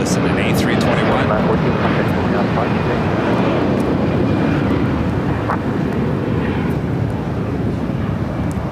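A Delta Airlines Airbus A321 jet departs LAX bound for Minneapolis, its broad engine roar steady and loud throughout, mixed with wind buffeting and voices talking underneath.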